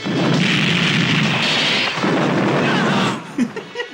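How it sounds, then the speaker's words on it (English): A loud movie explosion of the ground roars for about three seconds as a broad, rumbling blast, then fades into a few smaller pops and debris sounds. "So instead the ground just spontaneously explodes."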